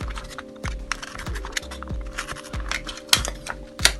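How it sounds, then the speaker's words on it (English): A craft knife slices into balsa wood while building a model goldmine strut, with a series of short, close, crisp cutting and tapping strokes in an irregular rhythm and no talk. "just cut into the balsa"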